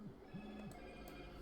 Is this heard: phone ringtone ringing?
yes